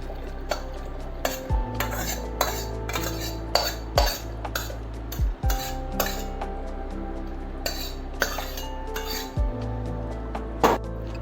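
Boiled bottle gourd peels tipped into a pan, with metal clinks and scrapes of utensils against cookware at close range, several sharp knocks spread through the clip over a low steady hum.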